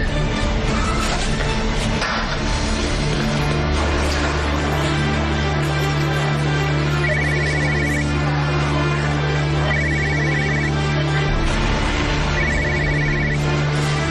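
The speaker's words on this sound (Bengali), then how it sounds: "আপনার ফোন বাজছে।" A mobile phone ringtone repeats in short bursts about every three seconds, mixed into a dense bed of music and background sound in a dubbed television drama scene.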